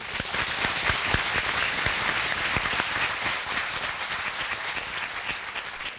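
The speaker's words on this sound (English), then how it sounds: "Let's have a round of applause for him." A large indoor audience claps in sustained, dense applause at a university welcome event, steady and full for the whole stretch with no voices over it.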